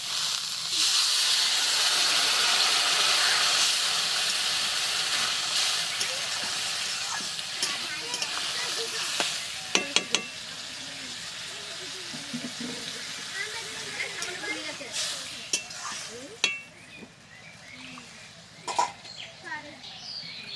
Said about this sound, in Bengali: টমেটো দিয়ে ভালো করে ভেজে নিয়েছি, এবার দিয়ে দেবো পরিমাণ মতো জল।